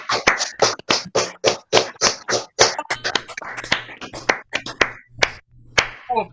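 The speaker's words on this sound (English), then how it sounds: "if you could all unmute yourselves and give a round of applause for Andrew, Knight, Lin Steel, Tony Warren" Participants in an online Cotswold morris dance workshop clap after unmuting, a series of crisp, separate hand claps at a steady pace, thinning toward the end as a voice briefly joins.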